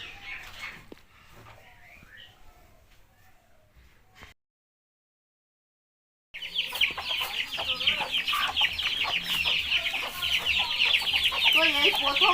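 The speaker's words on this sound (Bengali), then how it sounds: "তো আমরা এখন মুরগিগুলো ধরে নিয়ে যাচ্ছি কাটার জন্য" Desi chickens being caught for slaughter give faint clucks at first, then after a short silence break into loud, dense squawking and clucking close by.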